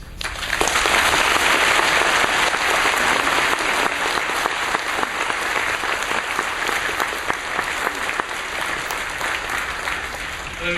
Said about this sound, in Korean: 나오실 때 뜨거운 박수로 환영하겠습니다.